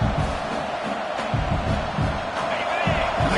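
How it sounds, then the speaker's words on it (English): A dense, roaring video game stadium crowd in College Football 26 fills the clip, a steady wash of cheering and shouting with no pauses, loud and close throughout. "Crowd really making some noise now, trying to help out this defense"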